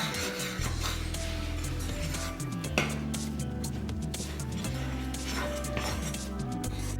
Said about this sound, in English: I have mixed the dough well with the spoon.